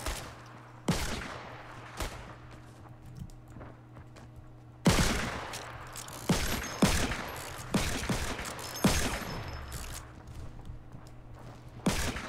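Gunfire in the video game Fortnite: sharp, loud shots crack out one at a time and in short bursts, spaced about a second apart, over a steady low in-game hum.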